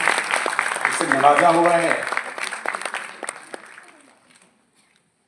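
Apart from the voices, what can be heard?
loud applause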